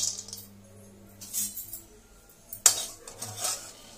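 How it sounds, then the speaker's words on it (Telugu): Cashews and peanuts are dry roasted in a pan on a stove, giving a few scattered metallic clinks and scrapes of a spoon against the pan, fairly quiet with gaps between. "ఫస్ట్ అయితే మనం స్టవ్ ఆన్ చేసుకొని కొంచెం కాజు, నెక్స్ట్ పల్లీలు అయితే డ్రై రోస్ట్ చేసుకోవాలి."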